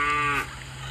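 A cow moos once, loud and close, the low bellow holding for about half a second before cutting off into quiet background.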